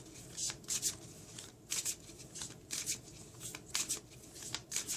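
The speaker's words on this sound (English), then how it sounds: "I'm just going to give the deck another quick shuffle" A tarot card deck gets a quick hand shuffle during a reading, giving repeated crisp riffling bursts in a steady rhythm, close and moderately loud, with no one speaking.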